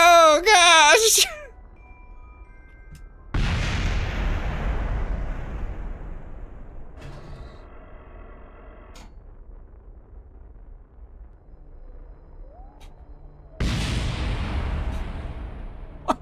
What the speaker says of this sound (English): Why is it still exploding?